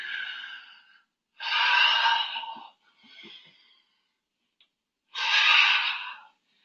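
Deep breaths during a yoga practice, with slow, audible inhales and exhales in separate long breaths, close and clear against a quiet background.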